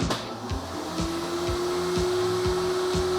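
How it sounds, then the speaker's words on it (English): Vacuum table on a screen printing press running, a steady whirring motor drone with a rising tone and rhythmic mechanical pulses about twice a second, close and continuous without speech. "I'm going to turn the vacuum on."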